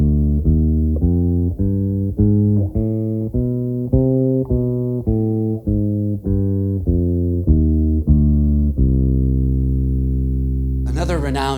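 An instrument plays a melodic minor bebop scale with an added chromatic note between the fifth and sixth degrees, as a steady run of about fourteen clean, evenly spaced single notes. A final note is held, and a brief noisy burst comes at the end.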